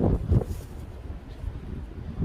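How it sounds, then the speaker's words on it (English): Wind buffeting a microphone outdoors, a continuous low rumbling roar with uneven gusty swells, loud and close, with no other clear sounds. "Sorry about the wind, I'm trying to block it."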